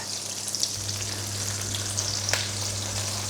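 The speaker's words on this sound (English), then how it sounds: "once the butter is melted, it's generally hot enough then to add the schnitzels" Pork schnitzels fry in a pan of melted butter, a steady close sizzle and crackle filling the space with small pops, no talking over it.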